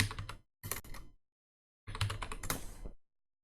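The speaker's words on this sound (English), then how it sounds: "So then I'll type in the command Boolean difference." Keys clack on a computer keyboard as a command is typed into 3D modeling software, in two rapid bursts separated by a pause, close and clear with no talk.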